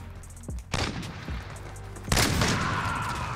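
Loud gunfire in a first-person shooter, a few close, sharp shots followed by heavier bursts with a booming onset and lingering noisy tail, no voices over it.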